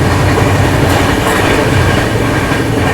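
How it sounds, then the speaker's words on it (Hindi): An AC double-decker express train passes Bommidi railway station in Tamil Nadu at speed, heard from on board. A loud, constant rumble runs under a rapid clatter of wheels on rails. "हमारी ट्रेन यहाँ अच्छे खासे स्पीड में स्किप कर रही है तमिलनाडु के बोमीडी रेलवे स्टेशन को"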